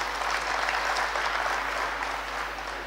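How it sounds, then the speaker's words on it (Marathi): Audience applause at a Marathi motivational talk on entrepreneurship, a sustained wash of many hands clapping evenly throughout, somewhat distant in the hall with a low steady hum beneath and no speech. "जरा टाळ्या वाजून म्हणलं तर खरंच मला पटेल की जीवन चांगलं आहे."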